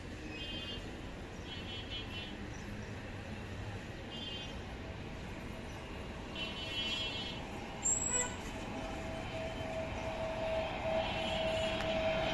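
A large Vistara airliner approaching to land on a fog-covered runway, heard as a steady, distant broadband engine roar that swells slightly near the end, with no talking.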